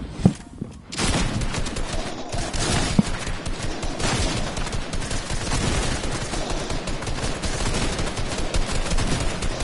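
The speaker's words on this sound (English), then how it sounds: "I've got about 3 or 4 people shooting at me" Rapid gunfire from several players in a Fortnite match, dense overlapping shots and bursts running almost continuously for about ten seconds, loud and close.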